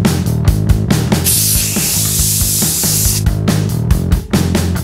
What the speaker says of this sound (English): Finally, I use firm hold hairspray for extra staying power.